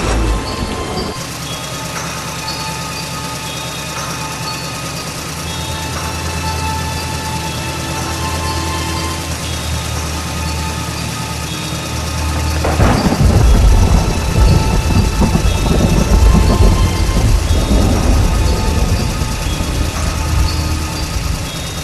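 Heavy rain pours steadily throughout an animated horror scene, and a loud roll of thunder breaks in partway through, rumbling on and staying heavy under the downpour.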